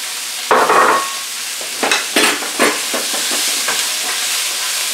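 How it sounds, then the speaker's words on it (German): Cucumbers sauté in a hot pan for a salmon curry, giving a steady sizzle with a loud burst when they go in and several shorter clattering stirs. "Leichte Gurken dazu, die wir ja vorhin schön geschnitten haben."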